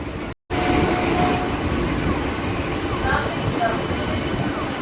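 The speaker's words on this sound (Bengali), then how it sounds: "ট্রেন ছুটে যাচ্ছে একদম আমঘাটার দিকে" A Shantipur–Krishnanagar local train runs along the rails toward Amghata, giving a steady rumbling roar with faint squeals, heard close and loud after a brief dropout at the start.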